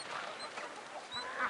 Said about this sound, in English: chickens and ducks in their net area